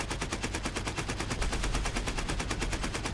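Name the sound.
incoming cannon fire in War Thunder video game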